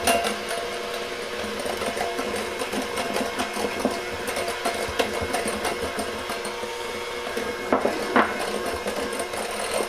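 A KitchenAid electric hand mixer on its low start speed beats egg, sugar and flour for a custard, a steady whirring motor with rapid clicking and rattling of beaters against the bowl.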